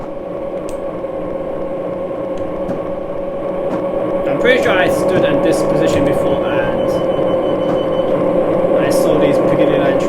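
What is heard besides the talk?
Piccadilly line train passing station in Train Simulator 2019 video game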